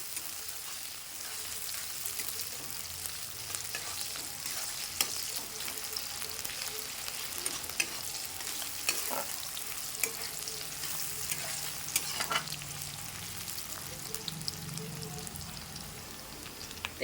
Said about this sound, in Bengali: পেঁয়াজটা আমি ভালো করে ভাজা ভাজা করে নেব তারপরে দিয়ে দেবো টমেটো